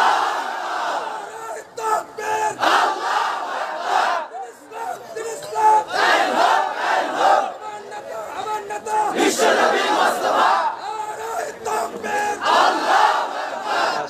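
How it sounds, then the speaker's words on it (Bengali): A large crowd of married men at a Bangladeshi waz religious gathering roars the takbir chant in loud, surging unison, with repeated swelling shouts and brief dips between bursts. "বিবাহিতরা তাকবীর দেন, এটা দেখি কত জোর আপনাদের গলায় আছে।"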